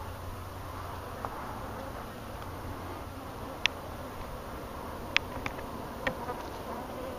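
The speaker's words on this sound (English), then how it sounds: "Yeah, I got a guard bee already on the attack." Angry honey bees buzzing around a good-sized hive during a removal in Wellington, Florida, a steady dense hum with a few close bees darting past in sharp, brief bursts.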